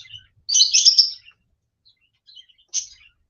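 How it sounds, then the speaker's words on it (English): Birds chirp outdoors in two bright bursts, a longer near flurry of tweets followed by a shorter call, with quiet gaps between. "Well, Mel, I'm sorry that the birds are loud again today"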